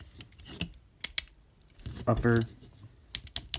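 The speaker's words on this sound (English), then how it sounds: "Very loud ratchet." Loud ratcheting clicks from the plastic joints of a Transformers Animated Cybertron Mode Megatron toy figure, a few sharp bursts including a buzzy run of clicks, amid handling noise with a voice speaking briefly.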